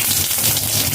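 Whole cumin seeds and bay leaves sizzle in hot oil, a loud, dense, continuous crackling hiss heard close up with no voices.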